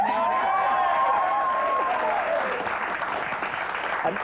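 A British TV studio audience cheers and applauds, a bright rush of clapping with some whoops and crowd voices, loud at first and easing slightly toward the end.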